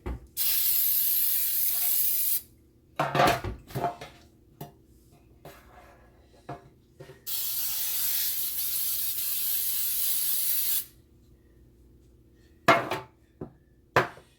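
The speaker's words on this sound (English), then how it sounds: "we're going to spray our pan" Two long hissing bursts of aerosol cooking spray onto a baking pan, each a few seconds, separated by quiet stretches with scattered knocks and clatter.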